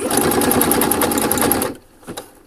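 A sewing machine stitches elastic onto a swimsuit in a steady, rapid whirring run up close, then stops abruptly, leaving a few faint handling clicks.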